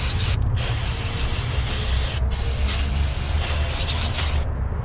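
Starter fluid hissing from an aerosol can onto the greasy valve cover of a 1999 Honda Accord, a steady, loud, continuous spray with a few brief pauses and no talking.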